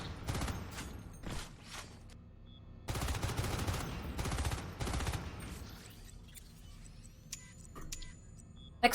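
Weapon gunfire in the video game Natural Selection 2: rapid bursts of automatic shots in several clusters with short pauses between, crisp and close, alone without talk.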